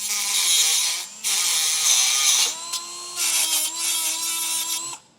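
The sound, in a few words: power tool cutting off a stud on a bumper beam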